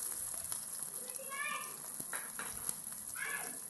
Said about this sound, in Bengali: এবার পেঁয়াজগুলো একটু ভাজা ভাজা করে নেব, ব্রাউন হালকা বাদামি কালার।